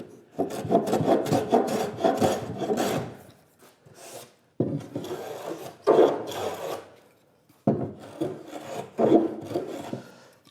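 A hand plane takes shavings off the end of a workbench component in three long rasping strokes with short pauses between them, close and loud, with no talking.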